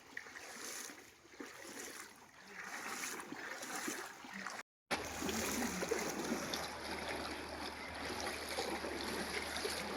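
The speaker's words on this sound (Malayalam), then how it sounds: "വെള്ളം റോഡ് കവിഞ്ഞ് ഇങ്ങോട്ട് വരുന്ന നല്ല ഒഴുക്കാണ് കേട്ടോ." Strong floodwater pours over a road on the Thiruvalla–Ambalappuzha route, giving a steady, loud rushing wash that runs throughout with only a momentary gap.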